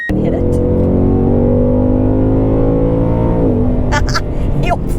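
A Ford Mustang Mach 1 accelerates hard from inside the cabin, a loud sustained engine drone climbing steadily in pitch before easing off near the end, with a voice speaking over it.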